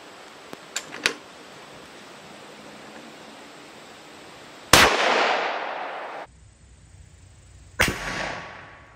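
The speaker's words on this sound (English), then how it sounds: "Now we're gonna try the plastic bullet." Two sharp gunshots from a rifle firing plastic blue tip training ammunition, each a loud, abrupt crack with a decaying tail, spaced a few seconds apart after some faint clicks, with no talking.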